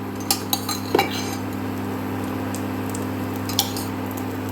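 A spoon stirs a ghee-coated amla mixture in a pan, giving a few light scrapes and clinks over a steady background hum, with no talking.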